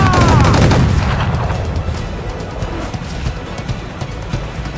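Ship cannons firing in Assassin's Creed 4: Black Flag, a loud booming volley at the start followed by a rumbling tail of further distant shots and crackling gunfire.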